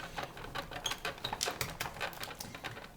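A Big Shot die-cutting machine cutting paper, giving a quick rapid clatter of clicks and ticks, close and steady for a few seconds.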